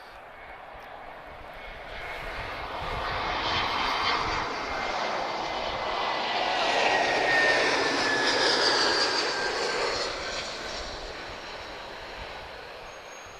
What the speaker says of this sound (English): A321-231 arriving from Helsinki.